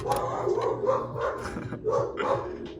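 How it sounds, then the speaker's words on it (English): A dog barks repeatedly indoors, a series of four or five muffled, medium-loud barks in an uneven rhythm, heard alone without talk. "Oh, little bark from a dog."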